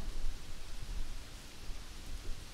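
Steady rain falls as an even, soft hiss of drops on a surface, constant and moderately quiet with no other sounds.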